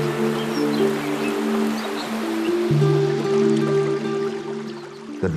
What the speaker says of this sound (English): The babbling waters of the river